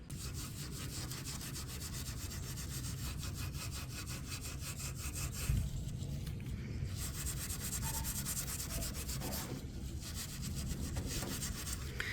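Chemical stripper is scrubbed over the base of a Kent Coffey mid-century modern dresser, giving a continuous loud, rhythmic abrasive rubbing with short pauses, close up and alone.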